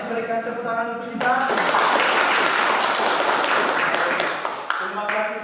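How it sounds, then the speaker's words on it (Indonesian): An audience claps after singing the Indonesian national anthem at a school lesson event: a short sung or spoken tail, then a swell of dense applause that holds for several seconds before fading as a voice returns. "berikan tepuk tangan untuk kita"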